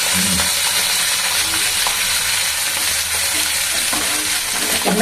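Vegetables for a Bengali chorchori fry in a hot pan, giving a loud, dense, continuous sizzle with faint stirring scrapes and no voices.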